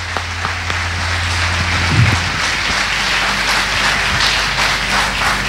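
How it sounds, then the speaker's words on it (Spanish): A church congregation claps strongly for the King, a broad, sustained wash of applause filling the hall over a steady low hum. "Fuerte tu aplauso al Rey."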